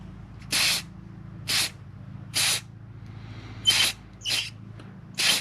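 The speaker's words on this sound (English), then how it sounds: "And I'm spraying the whole piece" Aerosol spray can misting a wooden piece for stenciling, six short hissing bursts of about a quarter second each, evenly spaced and close, over a low background hum.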